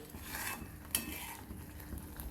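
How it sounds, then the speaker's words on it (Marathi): Raw masala with turmeric and a little kasuri methi stirred and frying in oil for a matki and peas rassa bhaji, heard as a soft, steady sizzle with light spoon scrapes and one sharp clink near the pan. "मसाला हा तेलामध्ये छान फ्राय करून घ्यायचा, तेल सुटोस्तर."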